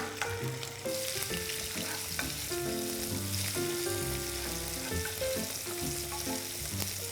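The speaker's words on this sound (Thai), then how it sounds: "พอน้ำมันร้อนใส่กุ้งลงไปผัดครับ" Shrimp stir-frying in hot olive oil in a pan for shrimp-fat pasta: a constant bright sizzle under clinks and scrapes of the utensil, with loud music playing over it throughout.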